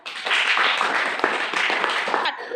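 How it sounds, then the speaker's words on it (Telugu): A classroom of schoolchildren claps together in a quick, loud burst of dense applause for about two seconds, close by, then it stops abruptly. "క్లాప్స్."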